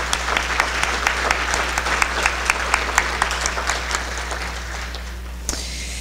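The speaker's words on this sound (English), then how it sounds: "let's give them a big thank you round of applause" An audience at a legislative breakfast in San Jose gives a hearty round of applause, with dense, steady clapping and distinct individual claps near the front, fading slightly before ending abruptly against a low background hum.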